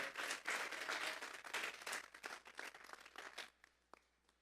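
A church congregation claps together in a dense burst of applause for about three and a half seconds, then it quickly thins to a few scattered claps and fades.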